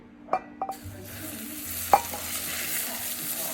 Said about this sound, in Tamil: இப்போது ஆயில் நல்லா சூடாயிடுச்சு. இப்போ இதை எடுத்து இதில் போட்டுடுறேன்.